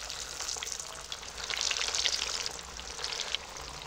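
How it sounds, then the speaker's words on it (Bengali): Breaded egg chops deep-frying in hot oil give a continuous bubbling hiss that swells louder midway and then settles, with no voices. "এক এক করে চপ দিয়ে ভেজে নেব।"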